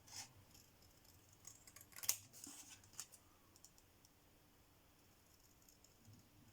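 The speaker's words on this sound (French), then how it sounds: "je vais découper un peu le cadre" Scissors snip through the cardboard frame of a tea box being customised, giving a few quiet, crisp cuts clustered near the middle, then soft faint clicks in an otherwise hushed room.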